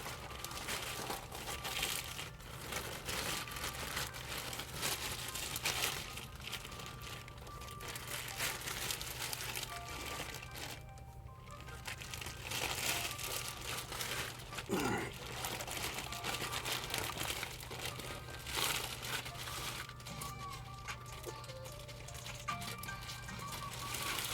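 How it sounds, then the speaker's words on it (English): Plastic wrapping being pulled off a Synergy Audio WTF 5.1 car amplifier, a steady close crinkling and crackling that runs throughout with scattered sharper rustles and no speech. "I'm going to just go ahead and pull her out the plastic and put her back down there"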